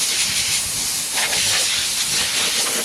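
A handheld air blower hisses in a steady, loud rush of air while cleaning parts during a service of a Kubota B2650 tractor, with the pitch shifting slightly as it moves.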